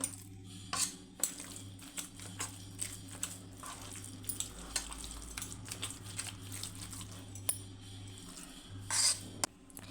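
Cooked rice being mixed with curd in a home kitchen using a spoon, heard as soft repeated scraping and light clinks against the vessel, fairly quiet over a low steady hum.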